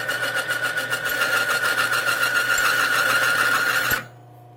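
A Timken bearing test machine grinds with a steady, loud mechanical whine and rumble as a dry bearing is loaded, then cuts off abruptly after about four seconds when the bearing seizes, leaving near silence.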